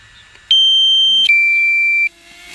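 Two loud, steady electronic low-battery beeps from a smoke alarm, one after another with a slight pitch drop, each lasting under a second, over quiet background.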